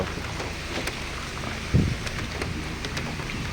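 Rain falling on a road on the way to Valasa waterfalls near Maredumilli, a steady close wash of drops with wind noise and one brief low thump partway through.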